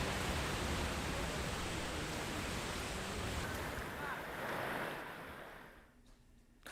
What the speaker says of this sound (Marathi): कारण पाण्याचा प्रवाह मोठा आहे